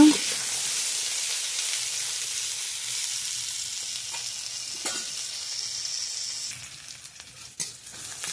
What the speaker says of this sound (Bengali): পটলগুলো ভাজা ভাজা হয়ে এসছে, এবার নামিয়ে নেব।